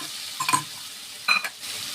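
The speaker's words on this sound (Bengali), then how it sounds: "এবার আমি একটু কালো জিরে ফোড়ন দিয়ে দিচ্ছি, অল্প একটু, আর দিয়ে দেবো এবার এই পোস্ত আর সর্ষেটা ঢেলে দিচ্ছি।" Nigella seeds tempering in hot oil, then poppy seed and mustard paste frying in a pan, a soft steady sizzle broken by two short bursts of stirring and scraping, no voices.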